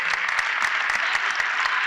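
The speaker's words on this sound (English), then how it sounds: "Give him a round of applause." A crowd at a city ward community meeting claps steadily in a dense, continuous burst of applause, close and lively.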